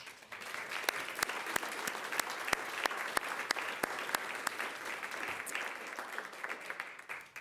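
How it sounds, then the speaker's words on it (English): A governing board meeting audience applauds students who earned perfect test scores. Sustained clapping from a room full of people carries sharp individual claps through it and tapers off near the end. "So those students deserve a huge round of applause."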